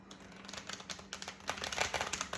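A deck of cards is shuffled close up, giving a quick run of soft papery riffling flutters that builds slightly louder toward the end.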